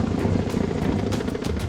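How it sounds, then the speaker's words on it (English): A helicopter's steady rotor roar with a rapid chopping pulse, close and loud, continuing throughout without a break. "So we need a fairly substantial helicopter."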